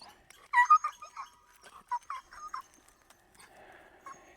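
A dog on a lakeside trail near Salt Lake City, hurt in the jaw from running with a stick, gives a string of short, high whimpering cries at close range, then quieter whines trailing off.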